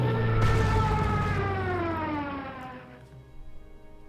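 Stuka dive bomber siren in the Panzer Corps video game, a loud wailing tone that slowly falls in pitch and fades out after a few seconds.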